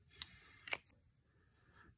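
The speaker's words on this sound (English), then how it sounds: "Let me spray it again." Juicy Couture Viva la Juicy Gold Couture perfume being sprayed, two short close hissing bursts a half-second apart followed by a faint third puff, over a quiet room.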